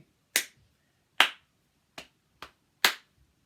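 Five sharp, isolated claps ring out in an uneven rhythm with quiet gaps between them, close and crisp, played as a call pattern for the Don't Clap This One Back game in a reception class.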